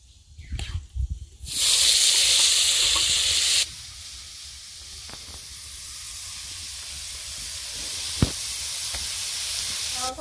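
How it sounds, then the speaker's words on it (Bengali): Teora greens hit hot oil with a dried red chili tempering, bursting into a loud, dense sizzle that then settles into a steady, quieter frying hiss with occasional stirring taps. "এবার লঙ্কা ফোড়ন দিয়ে ভেজে নেবো"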